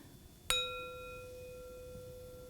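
A small bell, picked up in place of the big church bells, rings once with a clear struck ding and a long, steady fading ring of bright tones.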